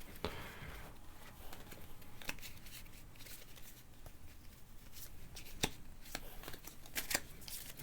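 Cards from the ISS Vanguard board game being handled and shuffled on a table, soft rustling with several sharp snaps and slaps scattered through, quiet and close, no voices.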